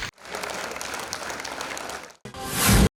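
Loud, dense audience applause fills the hall for a child singer at a TV singing show grand finale, steady throughout, then dropping briefly before surging again even louder near the end.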